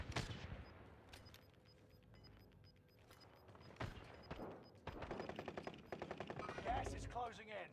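Bursts of gunfire from a multiplayer shooter video game, scattered shots and rapid automatic fire at varying distances, with faint mechanical clatter between volleys.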